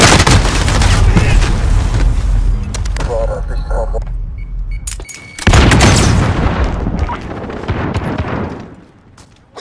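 Cluster strike explosions in Call of Duty: Modern Warfare, a loud barrage of booming blasts and crackling gunfire that fills most of the stretch, briefly drops out, then returns before fading, with game radio chatter mixed in.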